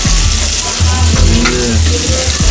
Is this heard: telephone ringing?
no